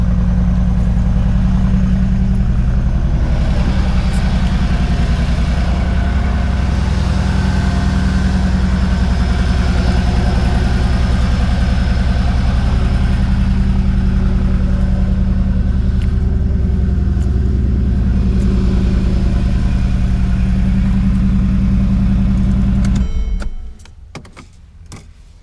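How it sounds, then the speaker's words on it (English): A loud, steady truck diesel engine idles with a deep rumble and a faint turbo whine on top, running continuously before cutting out abruptly near the end. "Oh, you can hear the turbos."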